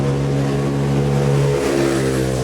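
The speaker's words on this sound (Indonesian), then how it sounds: "Jadi motor lewat sangat mengganggu sebenarnya." A motorbike engine passes close by, a loud continuous drone with a steady hum that rises and shifts in pitch as it goes past.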